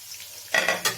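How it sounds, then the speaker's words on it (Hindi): Onions frying in a pan while a chicken biryani is prepared, with a quiet start and then loud sizzling bursts as they are stirred, with faint clinks of utensils against the pan. "उसमें ये प्याज डाल दिए। प्याज को करते हैं फ्राई।"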